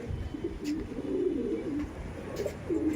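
Old pigeons coo, a male and female pair, in a low continuous throaty rolling that swells and dips across the moment, close and moderately loud with faint background noise.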